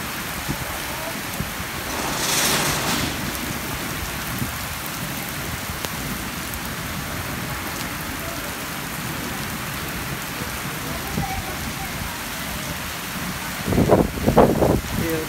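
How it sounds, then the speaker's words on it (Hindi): Heavy rain falls steadily in an outdoor setting with goats, a dense continuous hiss throughout with a faint distant rumble, and voices briefly rising near the end. "बारिश"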